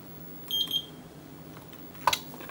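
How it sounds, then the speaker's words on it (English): A multimeter gives a short continuity-check beep while probing a TurboGrafx-16 CD dock during repair, a steady tone lasting about a quarter second, followed by a brief sharper click or chirp. "recheck continuity, and we are good. That initial beep is just some cap"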